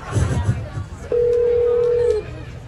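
A telephone tone sounds while a call is trying to connect: a single steady electronic beep lasting about a second. Brief voices and crowd chatter come before it.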